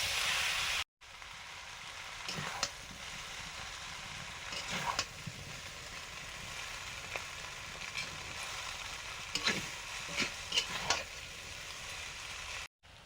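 Boiled chowmein tossed and stir-fried in a hot pan for mixed chowmein gives a continuous close sizzle, with occasional louder scraping bursts of the spatula and no talk.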